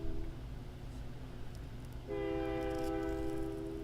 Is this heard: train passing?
yes